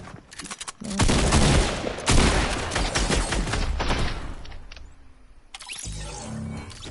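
Gunfire in a Fortnite match comes as loud, rapid bursts of shots that fire off in dense clusters, fade into a quieter stretch, then pick up again.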